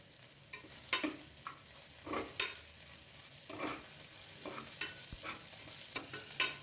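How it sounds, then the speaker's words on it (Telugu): Green chillies and ginger-garlic paste frying in a pan for gongura biryani, a low hiss with irregular spatula scrapes and taps, quiet and close, no voices. "తర్వాత పచ్చిమిర్చి, అల్లం వెల్లుల్లి పేస్ట్ వేసి పచ్చివాసన పోయే వరకు ఫ్రై చేయండి"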